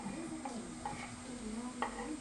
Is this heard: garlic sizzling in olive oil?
yes